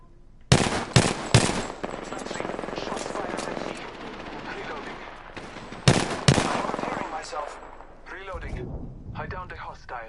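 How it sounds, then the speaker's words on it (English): Gunfire in the Apex Legends battle royale video game: loud, rapid automatic bursts, heavy at the start and again partway through, over a dense rumbling combat bed that trails off into lighter chirping effects. "Shots fired at me."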